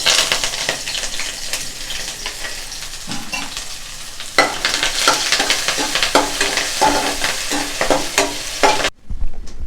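Cinnamon, cloves, cardamom, onion and curry leaves hit hot oil in a loud spattering sizzle with crackling bursts, then it settles and cuts out abruptly at the end.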